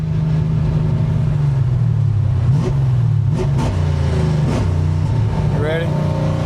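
A tuned car engine idles loudly and steadily, with several brief revs rising and falling over the low drone as the fuel pump runs, while a person talks nearby.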